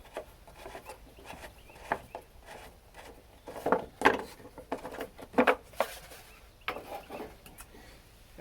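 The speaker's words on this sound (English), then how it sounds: "I'm going to take this air cleaner cover right back off that I just put on" Plastic air cleaner cover being pulled off a neglected 1998 Yazoo YTKC22 three-wheel mower, heard as close scraping, rubbing and clacking with sharper knocks midway, no talking.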